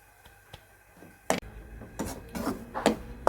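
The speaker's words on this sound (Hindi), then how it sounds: "और यहाँ पे आपने चम्मच चलाते रहना है" A spoon scrapes and stirs semolina halwa being fried in a pan, making a few soft taps followed by several close gritty scraping strokes.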